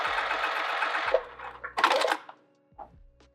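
A sewing machine stitching a bucket tote bag, a loud close whirring run that stops, followed by a few shorter bursts of stitching with pauses between.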